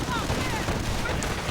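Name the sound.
armored car auto cannon fire in a war video game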